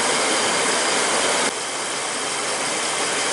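A car engine idles steadily while the A/C system is topped off, a loud continuous broadband rumble and hiss that holds even throughout with a slight drop in level midway, and no voices.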